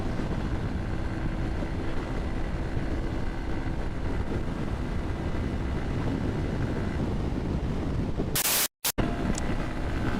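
A Honda CBR motorcycle riding fast at over 100 on an open highway in good weather, with steady, loud wind roar buffeting the microphone throughout and a brief dropout near the end.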